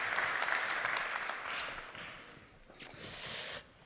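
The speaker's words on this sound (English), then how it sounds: "Give a round of applause, please." Applause from a keynote audience at a manufacturing conference, fairly faint and distant, rising and fading in waves before a last swell near the end.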